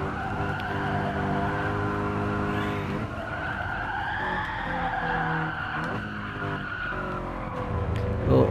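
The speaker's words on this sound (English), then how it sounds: "the artificial turf really sends you sliding off quite easily" Toyota 86 GT in a racing video game, tires squealing in a long skid as the car slides off onto artificial turf at Suzuka Circuit, over a steady engine drone, loud and continuous for several seconds.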